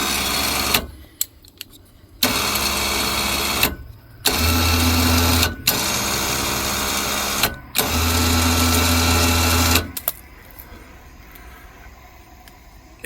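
An electric winch motor on a portable truck or trailer mount runs in three loud bursts of about two to four seconds each, with a steady whine and low hum. Short pauses separate the bursts, and quiet background follows.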